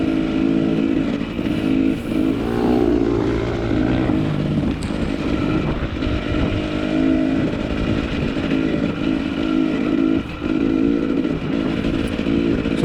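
A racing motorcycle at a road-race round at Odessa, Washington, held in fourth gear, its engine roaring loud and steady at high revs for the whole stretch, with only brief dips in pitch, close and constant.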